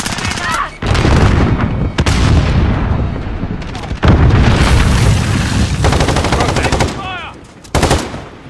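Rapid machine-gun fire and booming grenade blasts from a Modern Warfare team deathmatch on the Rust map, loud and dense, with sharp bursts cutting in and out over several seconds.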